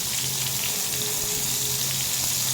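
Eggplant slices frying in a pan produce a loud, continuous crackling sizzle, dense and steady with no pauses, heard close up with no talking.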